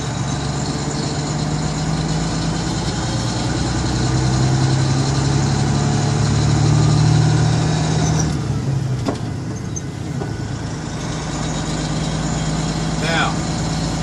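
A truck engine idles and runs steadily through a gear-shift training drive, a constant mid-range drone that shifts slightly in pitch as revs change, with a brief clunk of the shift partway through.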